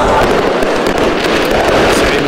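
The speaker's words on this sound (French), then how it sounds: "C'est clôturé par deux grandioses feux d'artifice" A grand fireworks display closing an Algerian celebration, heard as dense continuous crackling and booming that fills the whole stretch loudly, with crowd noise blended in.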